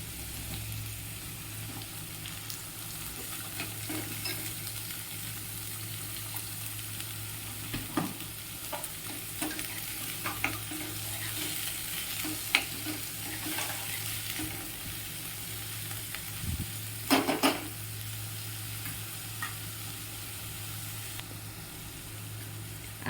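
Ginger, garlic and green onion sautéing in a pan, with a steady sizzle and scattered scraping stir strokes that grow louder near the end; no voices.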